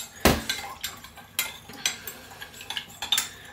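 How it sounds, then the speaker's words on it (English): A spoon stirs sugar in a pot during hot cross bun preparation, giving a series of close, light metallic clinks and scrapes at an irregular rhythm, with no voices. "I'm just giving that a good stir"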